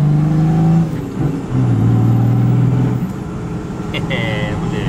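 A Chevrolet Silverado GMC with a turbo diesel engine runs loudly nearby, its drone and turbo whine rising and dipping while people talk over it and a higher whistle appears near the end.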